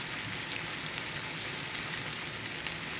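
Pork chops frying in a pan, giving a steady, dense hiss of fat sizzling evenly throughout, close and constant with no talking.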